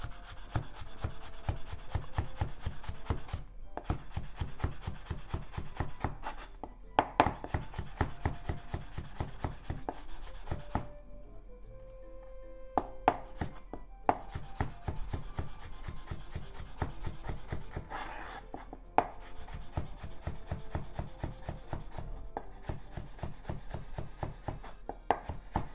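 Rapid, steady knife strokes slice pork into strips on a wooden cutting board, close and crisp, with a brief pause midway before the rhythmic chopping resumes.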